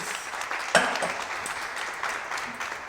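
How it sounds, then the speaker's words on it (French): Applause from a small group during an éclair-making cooking session in a kitchen: a steady patter of clapping across three seconds with one sharper clap near the start, moderately loud, no talking. "Et voilà, génial, on applaudit."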